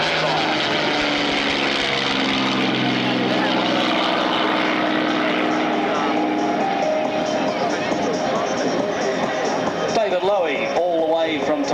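A Hawker Siddeley Nimrod flies at the Avalon Airshow in 2001, its engines giving a loud, continuous roar that swells and shifts toward the end, with an announcer talking over it.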